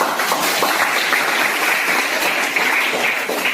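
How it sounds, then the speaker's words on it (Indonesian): Steady applause from a classroom group after a student team's presentation in a teacher training session, continuous and fairly loud throughout, with no talking. "Aplaus untuk kelompok 3."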